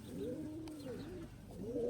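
Rajshahi Giribaz pigeons cooing close by, soft repeated rolling coos in a gentle rising and falling rhythm, fairly quiet with no talk.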